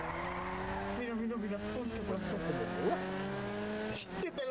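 A small, punchy car in the Cyberpunk video game revs its engine with rising and falling pitch and tire squeal, heard somewhat distant under voices talking in Spanish.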